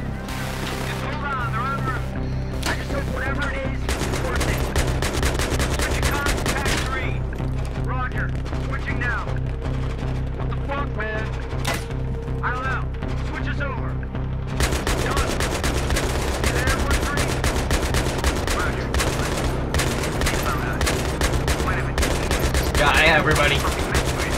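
Mounted turret gun in Battlefield 3 fires long sustained bursts of rapid automatic gunfire, loud and close, with a brief lull mid-burst before the barrage resumes.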